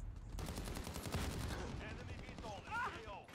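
Gunfire rattles through a Call of Duty: Modern Warfare multiplayer match, a quick run of loud shots close by for about a second. Sparse sounds follow, with a player talking over them.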